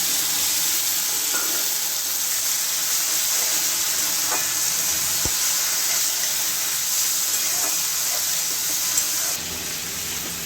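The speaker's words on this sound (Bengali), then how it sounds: "পেঁয়াজটা ব্রাউন করে ভেজে নিয়েছি, এবার দিয়ে দিলাম বেটে রাখা মশলা।" Ground spice paste frying in a pan with browned onions, a steady broad sizzle and hiss that stays constant throughout, with a few faint clicks and no talking.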